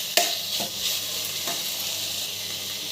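Onions sizzling in a hot pan while a spoon stirs them, a steady frying hiss with a few sharp scraping clacks from the stirring.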